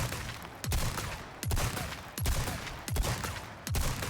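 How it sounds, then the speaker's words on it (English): A semi-automatic Riot Gun shotgun in the video game Resident Evil 4 Remake fires five loud, evenly spaced blasts, each followed by a short booming tail. "We're going to fire a few shots here."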